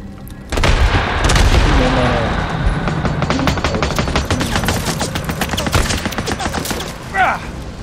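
Sniper gunfire in the video game Days Gone comes as an opening loud boom followed by rapid cracking shots and clattering bursts, dense and close, with a brief voice near the end.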